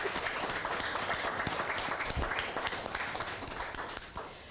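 Studio audience applause on a Swedish TV game show, a dense, steady wash of clapping that fills the whole stretch at a moderate level with no voices over it.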